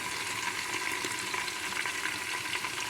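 Curry leaves frying in hot oil in a pan while khichdi is being made, giving a steady, dense crackling sizzle that holds at an even level throughout with no voices.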